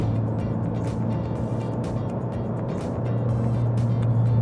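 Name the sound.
turbocharged Mazda car driving on the street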